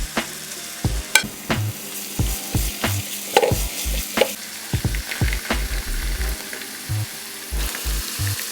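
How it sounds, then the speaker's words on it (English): Onions, garlic and carrots sauté in oil in a pan, a steady close sizzle broken by repeated rhythmic scraping and stirring strokes throughout. "in a pan, we have some oil and we're going to saute the onions,"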